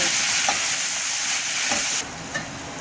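Ground spice paste with turmeric frying in oil in a pan, a steady bright sizzle with occasional stirring scrapes, the sizzle dropping somewhat near the end.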